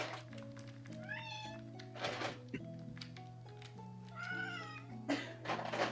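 A cat screams and yowls in several long, drawn-out cries while treats are shaken nearby, heard indoors over a steady low hum with faint thumps and rustling between the cries.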